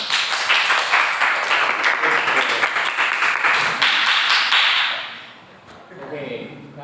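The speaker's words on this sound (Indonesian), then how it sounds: "Tepuk tangan semua." A group of participants in a classroom-style session applauds, a loud, close burst of dense clapping that holds steady for several seconds before tapering off into quieter room sound.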